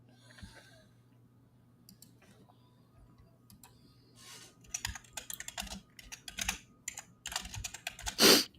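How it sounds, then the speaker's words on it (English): A computer keyboard is typed on loudly during a call: a quiet hum first, then from about halfway a dense burst of sharp, close key clacks and a final heavy strike. "Oops, I just typed really loud."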